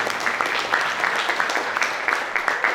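Audience applause at a youth seminar in North Jakarta, a steady round of clapping from a room full of people carrying through the whole moment at even strength.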